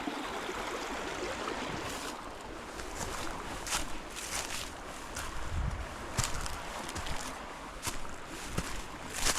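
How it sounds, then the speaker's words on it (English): A flowing creek beside a hiking trail, water running steadily with broadband rush and intermittent splashes, heard fairly close with some wind noise on the microphone and no talking. "Okay, not a bad looking creek."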